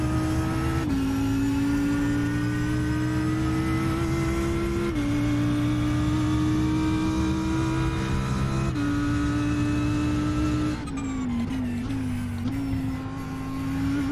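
GT3 race car engine in the iRacing game at Watkins Glen, loud and continuous, climbing in pitch through the gears with a drop at each shift, then downshifts and braking near the end.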